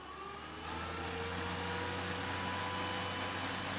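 A Logic Electro Broadcaster spreader motor hums steadily, then steps up in speed about half a second in, settling into a louder, higher whine with a steady tonal drone, close and alone.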